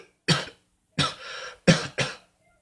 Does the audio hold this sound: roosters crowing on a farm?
no